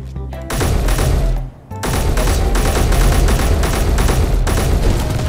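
Continuous heavy automatic gunfire in the space building game Space Engineers, loud and sustained with a brief gap near the start, dense rapid shots filling the clip.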